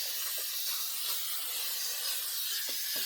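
Glue sprays in a steady hiss from a spray can onto fabric, continuous and close, with a few faint soft taps underneath.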